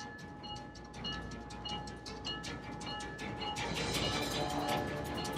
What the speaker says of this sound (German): Die Flughafenbahn steht kurz vor der Abfahrt.